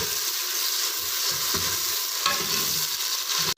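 Garlic-ginger paste, onions and tomatoes fry in a pan for mutton biryani, giving a steady loud sizzle with occasional stirring scrapes throughout, no talking.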